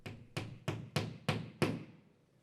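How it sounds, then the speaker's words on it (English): A hammer taps a plastic wall anchor into a pilot hole for mounting a GOJO NXT 1000 dispenser, six evenly spaced, sharp knocks that ring briefly and grow slightly louder, close up with no talking. "gently tap it into place with a hammer"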